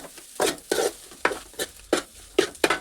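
Chili powder being stirred into an egg pulao mixture in a pan: about six distinct scraping strokes of a spoon at an uneven rhythm over a faint sizzle, close up, with no voices.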